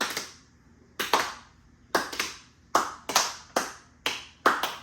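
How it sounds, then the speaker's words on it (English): A deliberate slow clap, single sharp hand claps spaced about a second apart, often doubled, close and crisp against near silence. "Slow clap."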